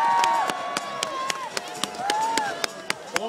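A crowd at a ski torchlight descent in a mountain valley applauds, with sharp rhythmic claps ringing out in a steady beat over sustained shouts and a loud voice.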